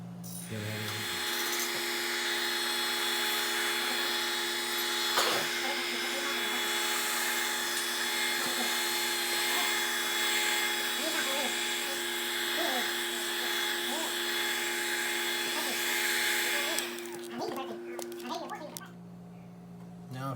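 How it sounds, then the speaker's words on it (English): Heat gun blowing on a Yamaha MT-07 gas tank cover, a steady loud whirring blower drone held close, with handling noises near the end as it shuts off. "And now I'm gonna get the heat gun out and heat it and wrap it over this edge right here."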